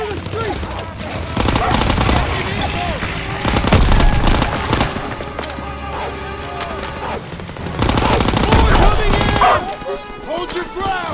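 Heavy gunfire in Call of Duty WWII, with steady automatic bursts and scattered shots in a street battle, alongside shouted voices and a dog barking amid the clamor.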